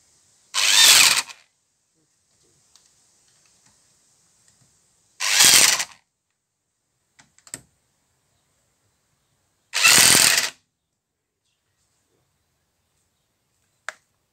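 A cheap electric impact wrench hammering at car wheel nuts during a wheel change, three short loud rattling bursts about five seconds apart, with faint clicks between and after, no talk.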